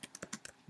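Quick clicks of computer keyboard keys while code is typed, about five crisp keystrokes in under a second, close and quiet with no talking.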